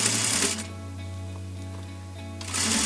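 A sewing machine runs steadily for about two seconds, stitching a topstitch seam across plain saree fabric while a frock is made from an old saree, its hum close and even with faint needle ticks.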